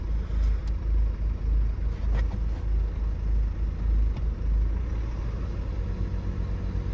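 Ford Kuga Mk2.5 with excessive vibration and a suspected engine misfire, heard as a steady, loud low rumble with an uneven throb throughout, from close inside the car and without talk.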